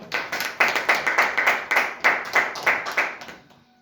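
A church congregation claps together to acclaim the Lord, a loud rhythmic burst of hands beating in a steady pulse that swells, then fades out near the end, with no voices over it.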